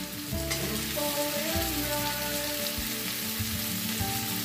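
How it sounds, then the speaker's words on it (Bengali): Paneer cubes sizzle and fry in a pan with softened capsicum, onion and tomato, making a steady loud crackle with occasional stirring scrapes, heard up close without any voices. "এবার আমি পনিরগুলো দিয়ে দিচ্ছি।"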